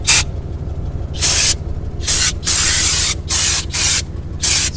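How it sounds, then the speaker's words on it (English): Repeated bursts of carb cleaner sprayed into the carburetor of a 1963 Dodge 330, five or six loud hissing blasts of about half a second each, broken by short gaps over a low engine rumble. "Some carb cleaner. Just throw a little down there first."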